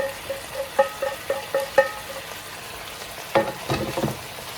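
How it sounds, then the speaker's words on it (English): Sautéed garlic and onions go into a frying pan with pork for Filipino porkchop afritada, giving soft sizzling under a series of light scraping stirs and spatula taps against the pan, close and fairly quiet, no talk. "then we will add our sauteed garlic and onions"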